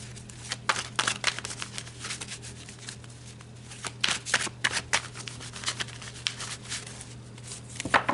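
Tarot cards being shuffled by hand, a close, crisp run of riffling flutters and soft slaps that come in uneven bursts, with a low steady hum underneath and no talking.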